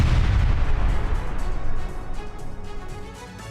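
Artillery bombardment in the Severodonetsk fighting, a dense rumble of booming blasts that is loud and continuous, easing slightly toward the end with no voices.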